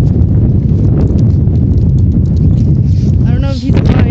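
Strong outdoor wind buffets the microphone in a steady, loud roar that runs the whole time, with a brief whistling gust near the end.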